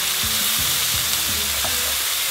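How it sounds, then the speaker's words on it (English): Tomatoes cook with golden brown onions in a pan for Kadai Paneer, giving a soft continuous sizzle and fry with a few stirring scrapes, close and fairly quiet, with no voices. "I'm going to add my tomatoes and I'm going to cook the tomatoes until they are soft."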